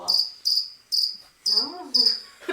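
A cricket chirping sound effect, played as a comedic cue for awkward silence on a talk show, comes as five or six evenly spaced, loud, shrill pulses close up, with a brief murmur of voice near the end.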